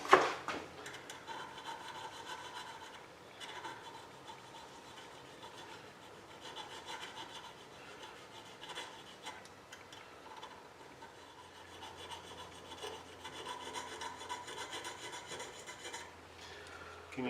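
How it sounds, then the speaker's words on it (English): Needle files rasping against a metal Corgi toy during restoration, a close, steady back-and-forth scraping that runs in continuous strokes with only brief pauses. "So I carry this on with different needle files till I get it really pretty good"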